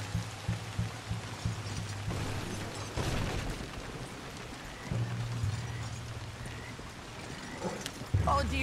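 Horse hooves clip-clopping in Red Dead Redemption 2, a rhythmic run of hoofbeats over a rainy backdrop with mechanical rattles, moderately quiet, with brief voices.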